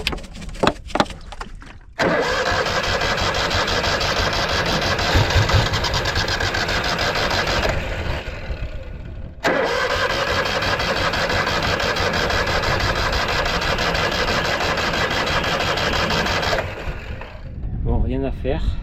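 A Citroën 2CV's small engine cranks in sand dunes, catching into a steady, loud mid-pitched idle that runs for several seconds, drops out briefly, then resumes and idles on before fading near the end.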